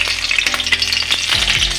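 Dry red chillies, bay leaves and star anise hit hot oil for Bengali-style katla kalia, giving a loud, steady sizzle broken by scraping stirs, close up and without talk.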